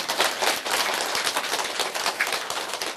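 An audience at a Korean folk storytelling performance claps together, a dense, sustained burst of applause that stays fairly loud throughout, with no talking.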